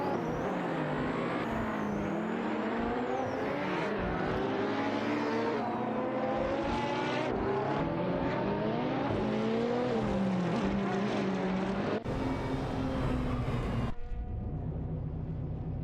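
Several race cars battle closely for the lead in an AI racing video game, their engines roaring and revving continuously with shifting pitch as they jostle, loud and sustained throughout with an abrupt drop near the end.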